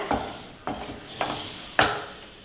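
A spoon scraping and stirring thick ragi paste in a cooking pan, four distinct strokes spaced about half a second apart, each a sharp scrape that fades, close up with no talking.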